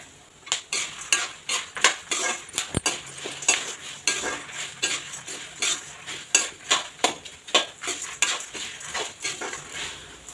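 Tamarind pieces roasting in a pan for milagu kuzhambu, stirred with a utensil that scrapes and clinks against the pan in a steady rhythm of repeated strokes, fairly close, with no talking.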